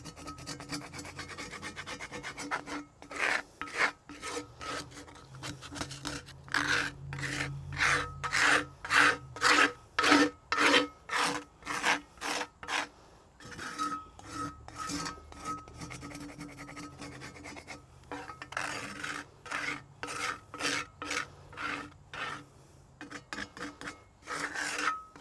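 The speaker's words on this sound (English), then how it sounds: "These scrapers have this kind of little round edge and a square edge, which is really handy for getting in the side of a skillet" A scraper works over a cast iron skillet in repeated rhythmic rasping strokes, close and steady, with short pauses between runs and no talk.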